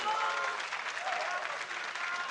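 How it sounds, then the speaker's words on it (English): A crowd at the 2017 HCT Summer Championship, a Hearthstone esports tournament, applauds the player Nalguidan with dense, sustained clapping throughout at moderate loudness. "Can we get another round of applause for Nalguidan?"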